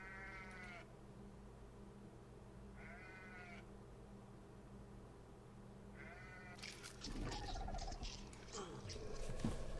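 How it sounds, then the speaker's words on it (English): A goat bleats in short harmonic calls, three spaced bursts over steady low background noise, before a denser, louder jumble of rustling and crunching sounds near the end, with no clear chewing rhythm standing out. "you hear the goat still making its noises and chewing on some grass"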